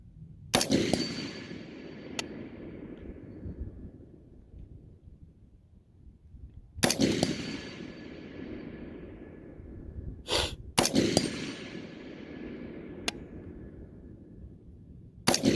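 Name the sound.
rifle shots, 16-inch Ballistic Advantage barrel, Hornady Black 75 grain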